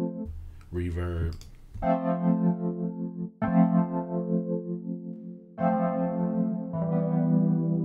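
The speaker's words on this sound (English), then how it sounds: "Reverb." Chords from a Waves software electric piano with a spacious reverb wash, each chord sustaining and decaying into the next, a short spoken word at the start.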